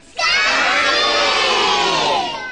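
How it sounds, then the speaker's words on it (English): A loud crowd of children in a theatre audience shouts together at a puppet show, starting abruptly and holding a sustained, dense roar of voices for over two seconds before easing slightly. "I want you all to shout for Scampy."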